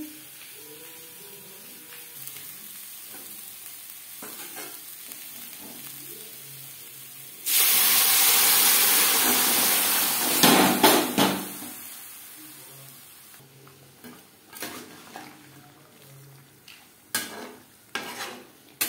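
Potatoes and meat are stirred in a frying pan, a soft background sizzle that swells into a loud hissing burst midway, with scraping utensil strokes and clinks; a voice speaks at times.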